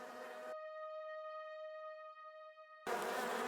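Bees buzzing in a Christmas-themed mystery video game, a steady synthetic drone holding evenly for a couple of seconds between bursts of broadband noise.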